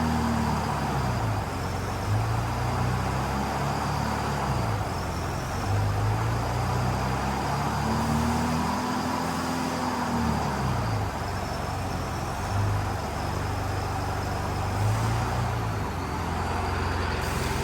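An old Lindy lift machine's engine idles up as its hydraulic controls are worked, giving a steady droning rumble with a wavering pitch that rises and falls. It runs continuously at close range with no voices.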